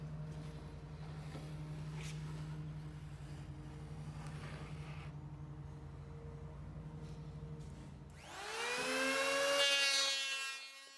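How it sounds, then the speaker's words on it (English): A power plane tapers a laminated plywood centerboard, its high whining motor shrieking loudly for a few seconds near the end, after a long steady low hum. "I used my power plane to create that taper."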